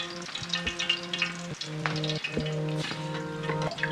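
Fried fish lifted from hot oil onto a drainer, the oil crackling and hissing steadily close by with faint clatter, no voices.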